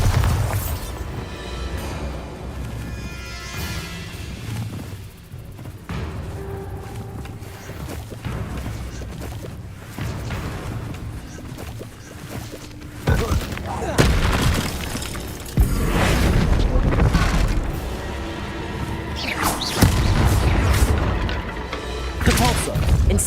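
Bombarda exploding spell cast in the Hogwarts Legacy video game: repeated loud booming blasts and crashing thuds among clattering game effects, with a heavy burst around the middle and more impacts toward the end.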